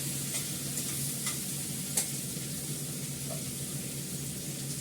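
Black cumin seeds frying in hot oil with ginger paste, a soft steady sizzle with occasional scraping clicks of stirring, faint and close.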